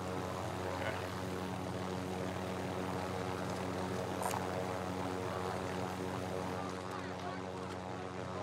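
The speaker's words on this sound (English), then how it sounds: "I just caught an airstrike on the building." Steady droning aircraft engine of an airstrike plane passing over a building in Call of Duty Modern Warfare Warzone, a continuous propeller-like hum held at even loudness throughout.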